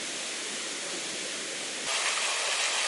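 Steady, broad rushing roar of falling water, constant and full, growing a bit louder and brighter partway through, with no voices.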